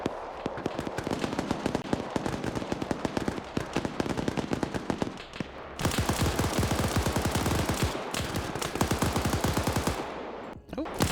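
Video game gunfire crackles in dense, rapid automatic bursts, loud and close, running almost continuously with brief breaks near the middle and just before the end.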